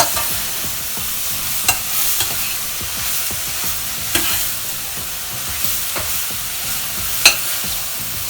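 Mushrooms frying with almonds in a pan for a milky mushroom soup, stirred constantly; bright, close sizzling with repeated scraping strokes of the spoon and a few sharper clacks against the pan.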